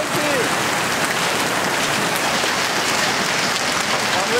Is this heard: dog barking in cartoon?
no